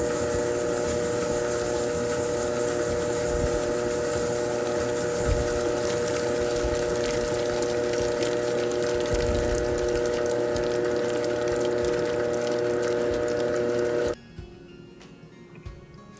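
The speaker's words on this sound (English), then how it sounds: "I have it set on the first speed, and I'm going to start mixing just to break them apart." A loud, steady electric mixer on its first speed whirs through bananas, sugar and salt for banana bread, droning continuously before cutting off abruptly near the end, leaving a quiet room.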